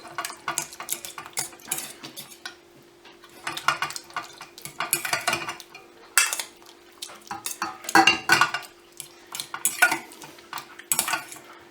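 Tomato pulp for homemade pizza sauce is worked through a sieve with a utensil, giving repeated scraping and metallic clinks of cutlery against the mesh and bowl, close and irregular, with no voices.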